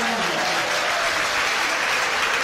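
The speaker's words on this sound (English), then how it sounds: "that was a nice little round of applause for the fans that made the trip up for Wales today" Stadium crowd applauding at a football match between St Mirren and The New Saints in February 2017, a steady wash of distant clapping from many fans filling the whole moment without pause.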